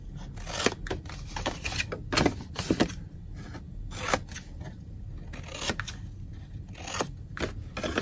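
Scissors snip through the paper tabs of a handmade gift box in a run of crisp, close cuts, some quick and bunched, others spaced out, with faint rustling of paper between them.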